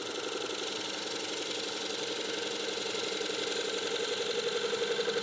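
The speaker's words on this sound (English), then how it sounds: "I'm rubbing the heel, bringing the gouge back until I see a little engagement there." A woodturning gouge cuts timber on a spinning lathe, a steady low whirring drone with faint rhythmic chatter, fairly quiet and even throughout, with no voices.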